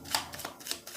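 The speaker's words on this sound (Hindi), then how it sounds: "मैं यहाँ से कुछ कार्ड्स लेती हूँ।" A tarot deck being shuffled gives a brief, close flurry of crisp card flicks and taps lasting about a second.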